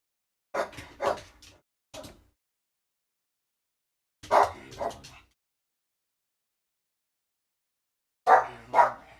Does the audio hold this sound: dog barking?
yes